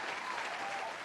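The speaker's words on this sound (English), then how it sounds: "Round of applause for that." A crowd applauds throughout, a dense, steady burst of clapping that stays loud from start to finish with no pause.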